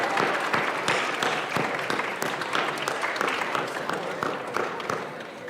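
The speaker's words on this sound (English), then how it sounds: "give your parents a round of applause" Applause for parents from a high school junior class audience at an academic awards ceremony, sustained rapid clapping that fills the room and slowly tapers off.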